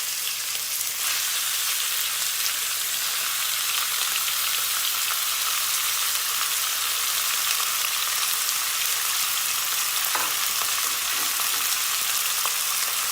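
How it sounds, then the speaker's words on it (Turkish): Meat sizzles and spatters in a heated pan for an eggplant stew, a loud, steady frying hiss that fills the whole stretch with no talk over it. "Tavamız ısındı. Hemen etimizi boşaltıyoruz."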